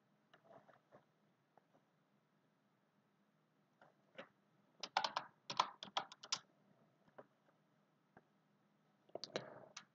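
Typing on a computer keyboard during a live online English class, with bursts of quick key clicks separated by pauses and a dense flurry of keystrokes in the middle, close and fairly quiet, no voices.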